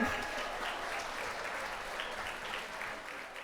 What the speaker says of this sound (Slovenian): Kar dajmo en aplavz velik, da slišimo, kako zvenite tudi vi